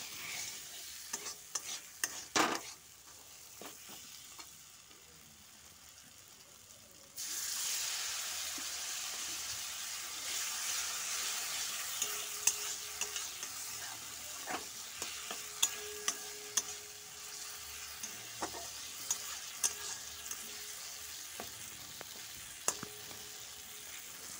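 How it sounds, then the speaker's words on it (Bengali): Masala for chicken curry is stir-fried in oil with splashes of water. A quiet sizzle turns louder and steadier partway through, punctuated by frequent clinks and scrapes of a spoon against the pan, with no talking. "যতক্ষণ মশলাতে তেল ছেড়ে আসছে ততক্ষণ তোমরা মশলাতে কষাতেই থাকবে"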